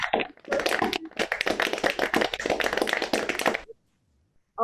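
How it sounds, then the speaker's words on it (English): Applause from a ceremony audience at the TN Khoshoo Memorial Award 2020, a few hands clapping in a steady patter for several seconds before stopping abruptly, then a brief quiet. "Round of applause."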